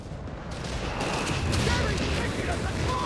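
Artillery bombardment hitting a base in Company of Heroes 3, a dense rumbling barrage of booms and crackling blasts that swells and stays loud throughout, with faint game voice chatter mixed in.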